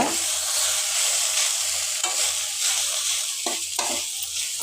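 Lemon aval upma gets stirred with salt and grated coconut, a spoon scraping in rhythmic strokes through the mix over a soft, steady background sizzle.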